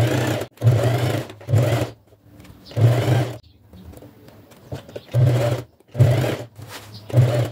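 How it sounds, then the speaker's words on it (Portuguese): Sewing machine stitching fabric for a Christmas gas cylinder cover, with several loud, close whirring bursts of running stitches separated by short pauses and quiet handling of the cloth. "agora vamos costurar. Pezinho de máquina, desse jeito que tá mesmo, a gente costura aqui"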